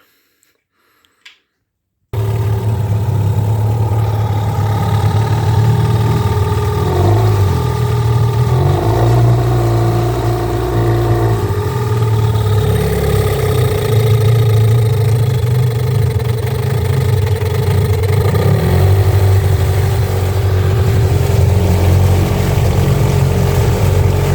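A loud engine starts after a brief quiet moment and then runs steadily, a continuous rumbling drone that varies slightly in pitch.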